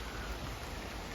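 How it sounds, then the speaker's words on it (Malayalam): Light rain patters steadily on outdoor surfaces near the Carrick-a-Rede rope bridge on the Northern Ireland coast, a soft continuous hiss with no voices. "ചെറിയൊരു മഴയുണ്ട്, നല്ല റെയിനി ഡേ ആണെന്ന് തോന്നുന്നുണ്ട്."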